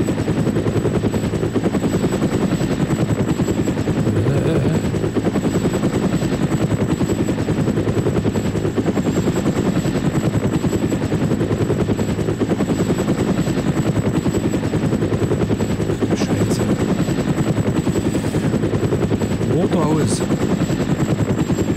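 A helicopter flies in the video game ArmA: Cold War Assault, its rotor beating in a loud, constant chop with a steady drone throughout, plus a few faint sharp clicks near the end.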